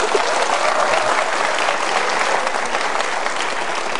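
An audience at a motivational seminar bursts into steady, loud applause, dense clapping filling the room throughout without pause.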